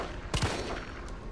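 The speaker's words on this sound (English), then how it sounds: "Maybe I can just shoot the lock off then." Gunfire in the video game Resident Evil 3, a single sharp shot followed quickly by a second aimed at a lock, loud and close, then a fading tail over ambient game noise.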